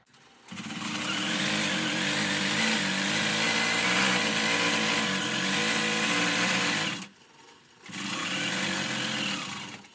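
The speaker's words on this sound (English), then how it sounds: "I'm going to re-engage horizontal channel lock, and I'm just going to start stitching again." A longarm quilting machine stitching chenille, a loud, steady mechanical whirring hum that runs for several seconds, stops briefly, then starts again.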